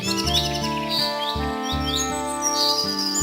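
Cartoon birds chirping in a tree, with quick high tweets over a background of layered tonal music.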